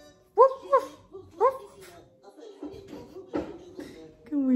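A small child imitates a dog with short yipping woof sounds, two quick then one more, close and clear, followed by an adult's soft talk.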